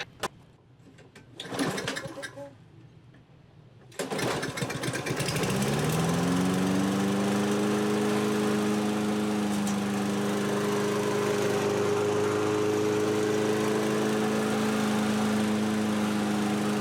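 A 2003 Toro 20017 lawn mower with a swapped-in Tecumseh LEV120 engine gets a few pulls and clatters, then starts and settles into a loud, steady, close drone that runs continuously to the end.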